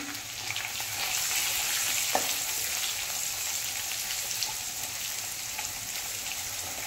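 Green chili and garlic frying in oil with a pinch of asafoetida for a Marathi dahi aloo curry, a steady close sizzle that stays even throughout, with a single soft tap of a utensil.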